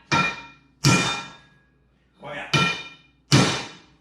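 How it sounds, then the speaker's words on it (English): A big hammer strikes the metal of a post hole digger being rebuilt, five loud ringing clangs spaced roughly a second apart, each decaying quickly, with a short spoken exclamation from a man. "Not little fucking hammer, big fucking hammer."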